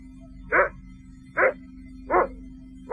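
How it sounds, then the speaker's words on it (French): A dog barks four times at night, evenly spaced and clearly audible, each bark short and sharp with a steady low hum underneath. "Ce chien a attrapé un raton laveur."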